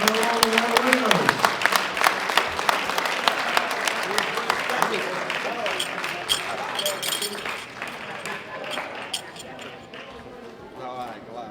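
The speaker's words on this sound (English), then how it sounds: "Big round of applause for all of our winners." Audience at the 2016 World Open Powerlifting Championships, men's 120 kg class, applauds the winners with dense, sustained clapping that slowly thins and fades over about ten seconds.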